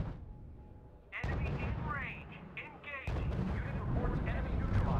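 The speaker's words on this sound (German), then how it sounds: "Die deutsche Artillerie massakriert uns, Sir." German artillery fire in the WWII strategy game R.U.S.E. sounds as dense, rumbling booms and explosions beneath game voice radio chatter, growing heavier toward the end.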